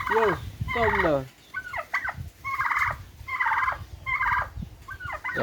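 Several backyard homestead turkeys gobble close by in quick succession, about seven loud rattling bursts with brief gaps, amid an agitated fight near a nesting hen.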